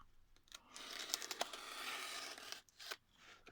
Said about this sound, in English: Cut it like that, cut it here, cut it here